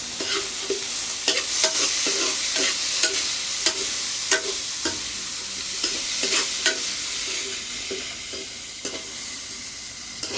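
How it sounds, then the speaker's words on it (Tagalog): Mung beans with anchovies, onion and tomato sautéing in a hot pan, a steady close sizzle broken by repeated scraping taps of a spatula as the mixture is stirred, with no voices. "Naggigisa po tayo ng munggo. Lagyan po natin ng dilis. Gigisa natin sa sibuyas, kamatis."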